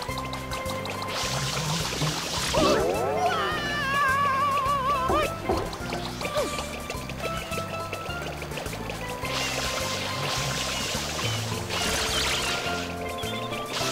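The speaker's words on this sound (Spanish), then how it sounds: "esos frutos cuando les echas agua" Water spraying onto fruits in the GameCube game Super Mario Sunshine, a steady pouring, gushing spray heard over ongoing game music with bright chiming tones.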